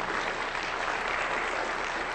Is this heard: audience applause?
yes